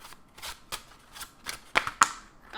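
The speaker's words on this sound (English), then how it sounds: "I need to see the card shuffling" Tarot cards being shuffled by hand, a run of quick, papery riffles and soft slaps, close and clear against a quiet room.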